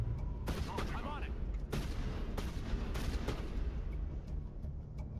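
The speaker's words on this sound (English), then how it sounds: "Who is shooting at us?" Scattered video game gunfire in Mass Effect 1, with several sharp shots spaced a second or so apart over a steady background, fairly quiet, and voices talking faintly underneath.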